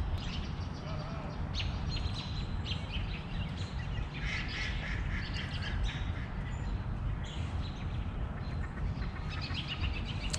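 Several ducks quack on and off with smaller birds chirping, all over a steady outdoor rumble that runs the whole time, on a cold morning in Pigeon Forge.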